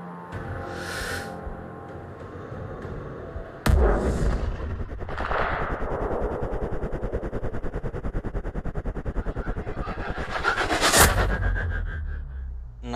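Sniper rifle fire in the video game Sniper Ghost Warrior Contracts: a sharp, loud shot cracks out and then a long rumbling tail rolls on. A second booming blast comes near the end over a steady game backdrop, with no talk.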